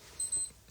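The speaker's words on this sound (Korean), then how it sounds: "12시 알람이 울리고 있습니다." A midnight alarm clock goes off as a faint, high, thin electronic beep in two short pulses, quiet and isolated with no talking.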